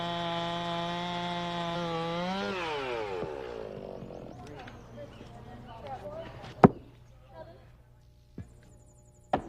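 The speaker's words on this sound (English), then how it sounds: "I know that sound. It's a chainsaw, right?" A chainsaw engine drones loudly with a steady pitch, then winds down into rough cutting noise, with a few sharp cracks and knocks toward the end.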